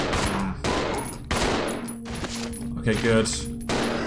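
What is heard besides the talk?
gunshots in Resident Evil 0 HD Remaster, a video game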